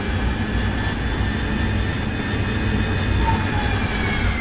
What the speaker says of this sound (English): Note also at this time the new sound effects of the engine.